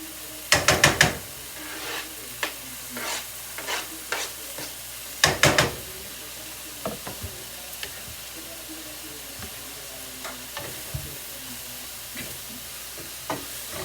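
Mushrooms and onions sauté on high heat in a pan, with a soft steady sizzle under repeated sharp scraping and clattering stirs of a utensil, loudest in two clusters early on.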